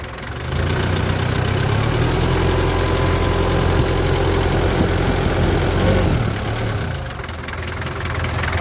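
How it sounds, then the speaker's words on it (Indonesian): A 1989 Daihatsu Taft GT 4x4 engine runs loud and close, holding a steady raised rumble for about six seconds before easing back to a lower idle and then climbing again. "Terus sekarang kita cek bagian mesinnya ya, kita gas."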